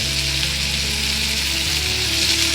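Washed fenugreek greens hit a hot pan in a Marathi home kitchen and sizzle steadily, a loud continuous frying hiss alongside a low hum, with no talking.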